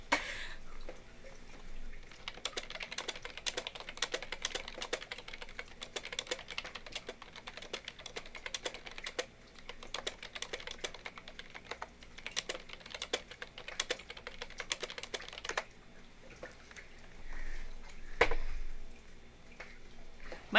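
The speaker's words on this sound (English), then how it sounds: "My keyboard has to be so obnoxious whenever I type." Loud clacking keystrokes on a computer keyboard, rapid irregular bursts of typing with brief pauses, close and dry, running alone throughout.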